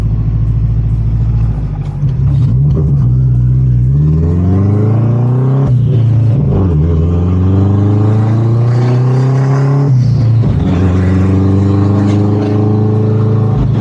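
A car engine with no exhaust revs loudly and raw, rising and falling in pitch repeatedly, with a harsh, unmuffled roar throughout.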